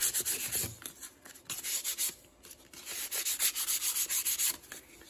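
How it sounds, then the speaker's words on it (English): Steady rhythmic rubbing of sandpaper on the edges of a CNC-carved wood piece, back-and-forth strokes in quick succession, close and moderately loud with no talk. "Just a little bit of cleaning up with the sandpaper"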